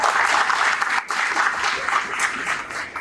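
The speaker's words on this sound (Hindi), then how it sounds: "टीचरों ने जोरदार तालियां" Loud, dense applause for the teachers at a school gathering, a crowd clapping vigorously and continuously with a brief dip near the one-second mark.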